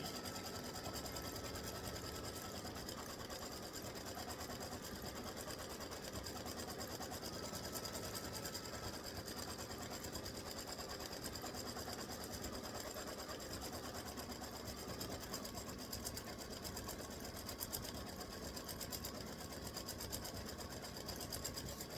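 An embroidery machine stitching a free-standing lace bee runs in a steady, dense mechanical whir with rapid needle clatter, loud and continuous throughout with no voices.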